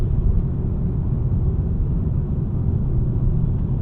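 Inside a 2025 Nissan Sentra SR cruising on a gravel road under 2,000 RPM, a dense, steady low rumble of engine and road noise fills the cabin evenly.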